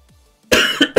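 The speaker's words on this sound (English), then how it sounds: "Sorry about the cough, guys." A sick gamer coughs hard into a close microphone, a loud harsh burst followed by two shorter hacking coughs after a quiet lead-in.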